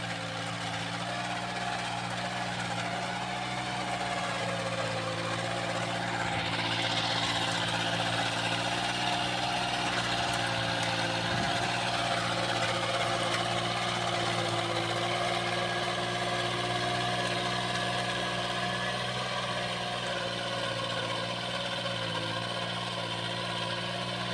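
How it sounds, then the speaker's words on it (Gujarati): A mini tractor engine runs steadily at idle-to-working speed throughout, a continuous close, loud mechanical drone with strong low harmonics and no talk over it. "કેતવ એટલો ટ્રેક્ટર ચલાવે છે"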